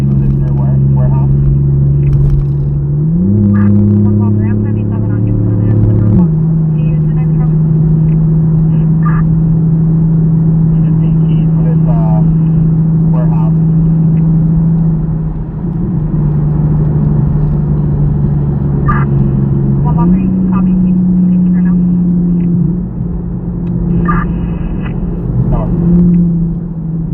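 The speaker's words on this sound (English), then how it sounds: "A 400 horsepower Lexus" A 400-horsepower Lexus with a 7-speed transmission gives a loud, steady engine drone whose pitch steps up and down with gear changes, alongside some talking.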